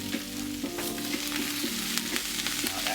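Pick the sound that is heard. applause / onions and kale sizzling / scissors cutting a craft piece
onions and kale sizzling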